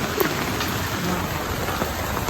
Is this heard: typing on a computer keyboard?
no